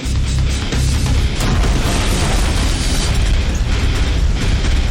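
A loud, sustained explosive roar from a heat-triggered explosion, with a heavy low rumble and crackling bursts, continuing without pause.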